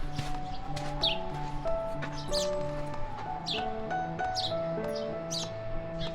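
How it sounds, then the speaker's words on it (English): Birds chirp in short, repeated tweets over a steady musical backdrop in green surroundings beside the Shyok River in Turtuk, Ladakh. No clear river sound stands out. "There's lush greenery all around and the sounds of the Shyok River and birds chirping"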